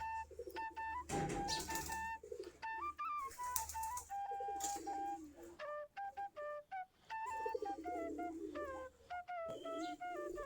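Domestic Giribaz pigeons in a loft, a series of soft coos and whistling calls, some overlapping, fairly close, with brief quiet gaps between bursts and no talking.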